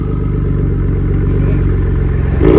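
Ford F-150 with its Borla attack muffler removed idles loudly nearby in a steady low throbbing rumble, rising slightly at the end as the turbo engine begins to spool.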